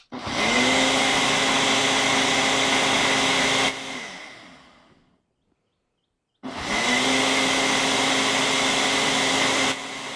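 A blender whirs loudly and steadily while blending food, then shuts off and winds down into silence before starting again at full strength. Nobody speaks.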